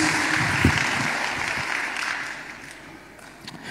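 Church congregation applauding in praise of Jesus, a broad wash of clapping that gradually thins and fades toward the end.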